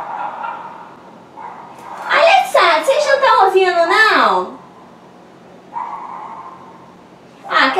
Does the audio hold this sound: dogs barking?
yes